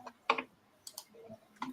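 Quick bursts of typing on a computer keyboard while working in Microsoft Loop, a cluster of close, light key clicks followed by a few scattered taps, fairly quiet with no voice.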